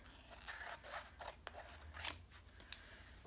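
Scissors snip around a brand new Chalk Couture transfer, a run of soft, crisp cuts with two sharper clicks near the end, close and fairly quiet with no talking.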